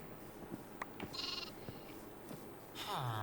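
Several sheep bleat in short bursts over a low, steady game background hum, with one louder, closer bleat near the end.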